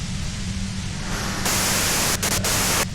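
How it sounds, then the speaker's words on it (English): Radio static from the video game Disco Elysium: a dense, loud wash of white-noise hiss that swells brighter midway with brief dips and cuts, over a low steady hum, no speech. "If you've got something really important to say, you can do it through the white noise."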